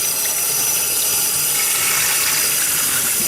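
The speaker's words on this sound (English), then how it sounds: "you just want to go ahead and rinse this inside and out with cold water, not warm" Cold tap water pours steadily and loudly over a whole raw turkey being rinsed inside and out in a kitchen sink, a continuous close hiss and splash with no talking.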